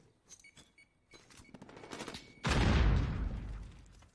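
Gunfire in a Call of Duty League Domination match: scattered single shots, then a sudden loud, sustained burst of rapid fire that rolls on to the end.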